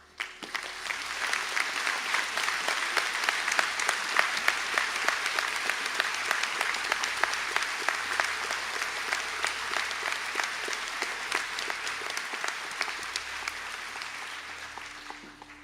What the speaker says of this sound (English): our graduates from the Higher Certificate in Business and Business Studies, the Higher Certificate in Business and Transport Services, Bachelor of Business in Business Administration, and the Bachelor of Business in General Business to stand for a round of applause